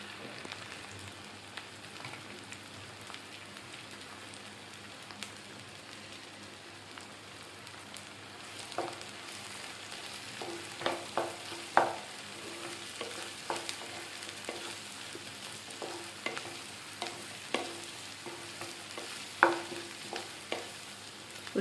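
Onions frying in oil for an Andhra-style ivy gourd masala curry, with curry leaves in the pan, sizzle steadily as a soft, even hiss, broken by clicks and scrapes of stirring that grow more frequent later on.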